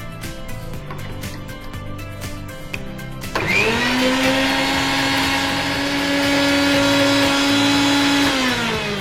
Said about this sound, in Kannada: ಇದು ಹಾಕುದು ಗ್ರೈಂಡ್ ಮಾಡಿ.